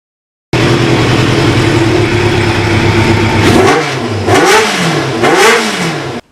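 A 1989 Kawasaki GPX750R Ninja motorcycle engine droning steadily while riding, loud and close, then revving up and down in several rising and falling swells toward the end, no talking.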